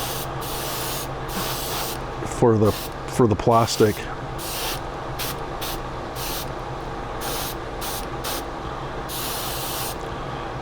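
Repeated bursts of sand-coloured aerosol spray paint on a 1/25 scale figurine and Humvee model hiss in a steady on-off rhythm, close up, with a brief spoken phrase partway through.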